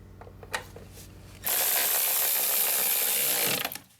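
A power tool or ratchet drives a transmission mount bolt on a VW Passat, starting with a few light clicks and then running loud and continuous for about two seconds before winding down, close up.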